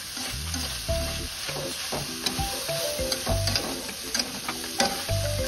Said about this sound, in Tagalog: At syempre, haluin din natin ng mabuti yan.